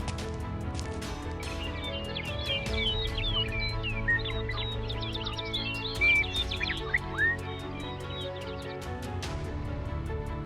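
Birds chirp and tweet at dawn, a scatter of quick bright calls in the middle of the clip over a steady bed of animated background music.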